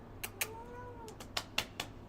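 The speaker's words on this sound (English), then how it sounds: "My black cat Lola is meowing next to me" A black cat meows close by in a quiet room, with a short drawn-out cry and a few soft chirps and taps scattered around it.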